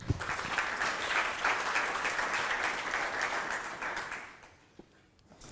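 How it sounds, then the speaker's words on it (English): An audience at an ICAPS 2018 conference talk gives a sustained round of clapping for a best student paper award, then it fades out near the end, leaving a quiet room. "An extra round of applause."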